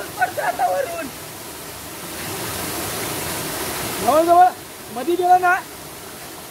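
A hidden waterfall in the Konkan countryside pours into a deep pool while rain falls, making a steady broadband rush throughout. Voices talk over it at the start and again near the end.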